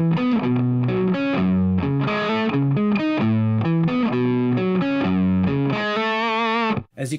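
A loud distorted electric guitar plays a chugging, palm-muted riff of power chords in steady rhythm, ending with a brief ringing chord and a sudden cutoff.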